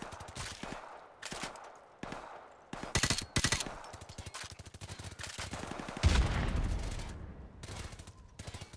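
Rapid bursts of automatic gunfire in Call of Duty: Modern Warfare Remastered, close and loud, with short pauses between volleys and a heavier blast near the end.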